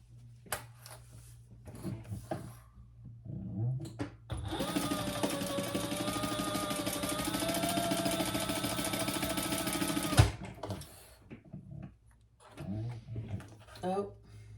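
A sewing machine stitches down the sides of a fabric bag in one steady, loud, continuous run of about six seconds, with someone talking before and after the stitching.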